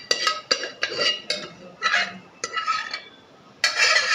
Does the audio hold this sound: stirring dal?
yes